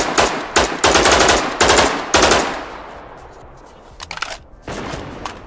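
Gunfire in Dead Matter comes as several loud, sharp bursts in quick succession, then a quieter tail with a few fainter shots near the end.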